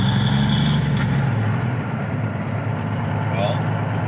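A 1980 Kenworth truck engine idling with RPMs slow to drop, a loud steady low diesel rumble close up, the pitch easing slightly as it runs, with speech faintly present.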